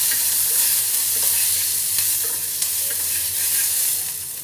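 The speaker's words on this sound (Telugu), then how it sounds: "మొదట పచ్చిమిరపకాయలు వేద్దాము. కొద్దిగా ఆయిల్ వేసాను." Green chillies fry in a little oil in a pan for a curd coconut chutney, giving a loud, close, unbroken sizzle with faint stirring, and no voices.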